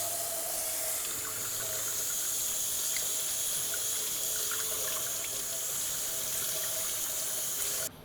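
Cold water runs steadily from a kitchen tap to soak homemade cured bacon, a constant broad hiss and splash with no speech, cutting off abruptly near the end.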